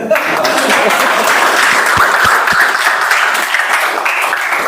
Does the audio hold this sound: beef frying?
no